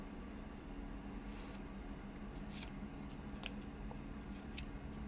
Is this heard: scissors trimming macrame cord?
yes